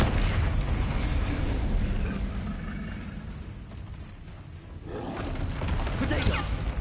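Fiery Confringo and Incendio spell blasts in Hogwarts Legacy: a constant roar of explosive bursts and crackling rumble dips briefly in the middle, then swells again with fresh blasts.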